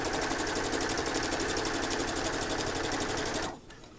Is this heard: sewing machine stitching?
yes